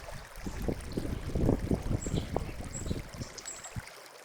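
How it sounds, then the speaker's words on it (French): Faint, steady rush of water flowing into a boat dry dock, with low gurgling and splashing, heard from a short distance, with no talking. "On entend l'eau couler d'ailleurs."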